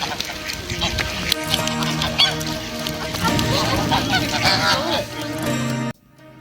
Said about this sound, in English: A little child with a handful of breadcrumbs being chased by a gang of determined ducks.